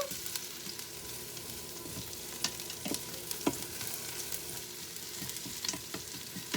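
Onions fry in an Instant Pot, a soft, steady sizzle with scattered crackles and occasional utensil taps as they are stirred, heard close but fairly quiet with no talking.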